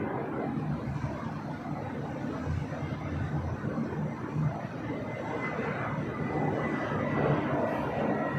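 A Delta Airbus A321 arrives at Los Angeles International, producing a steady, moderately distant engine roar with a low rumble that stays fairly even throughout.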